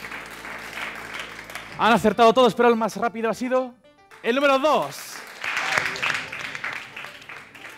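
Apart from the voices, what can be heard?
audience applause for quiz contestants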